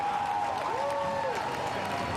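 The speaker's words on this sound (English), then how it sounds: "Sam Bird emerges to the roar of the crowd" Crowd roaring and applauding at the Formula E podium in Putrajaya, Malaysia, a dense continuous wash of clapping and cheering with a commentator talking over it.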